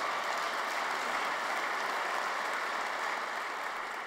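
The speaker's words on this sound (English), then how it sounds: "you can give her a round of applause already if you want" Steady, even applause from a large audience at the Stanford Athletics 2018 Hall of Fame ceremony, a continuous dense patter of clapping held at a constant, moderate level for several seconds with no talk over it.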